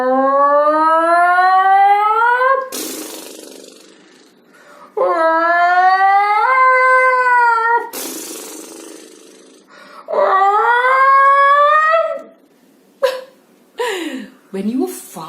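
A single voice imitates a ferocious snore mixed with a roar: three long, loud, rising wailing calls broken by harsh breathy bursts, followed by several shorter clipped vocal sounds.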